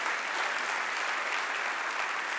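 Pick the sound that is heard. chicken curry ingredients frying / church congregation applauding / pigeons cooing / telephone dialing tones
church congregation applauding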